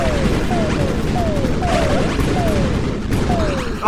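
Dense, continuous blasting and crashing from a Robot Wants It All video game explosion, loud and close throughout, with repeated booming impacts layered over a steady roar.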